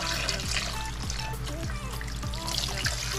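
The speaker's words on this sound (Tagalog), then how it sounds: "Lalagyan ko siya ng tubig." Water pours into a cooking pot holding a pork leg being prepared for Filipino crispy pata, a steady close trickle and splash with faint background hum.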